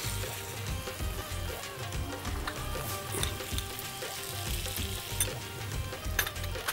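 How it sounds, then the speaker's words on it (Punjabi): Fennel seeds hitting a hot pan for eggplant curry produce a constant, crackling sizzle with fine popping and spattering, steady and moderately close throughout. "ਹੁਣ ਅਸੀਂ ਸੌਂਫ ਪਾਉਣ ਲੱਗੇ।"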